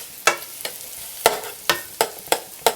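Onion frying with pork belly in a pan for liempo, a steady close sizzle punctuated by six or seven sharp scraping stirs at a loose, uneven rhythm.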